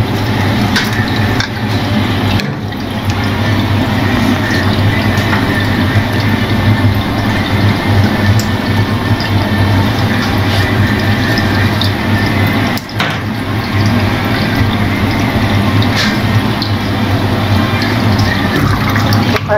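Water running steadily through medical equipment being cleaned and disinfected, a continuous loud, broadband rush from a tap or sink with no pauses and no talking.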